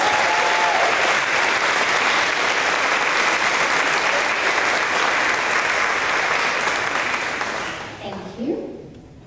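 Sustained audience applause at a 5th grade promotion ceremony, dense clapping from a large crowd that fades out near the end.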